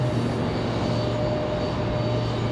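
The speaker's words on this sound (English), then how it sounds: "that's the United Express right there, headed out" A United Express airliner departs Raleigh-Durham International Airport with a steady, loud jet engine roar that holds evenly throughout.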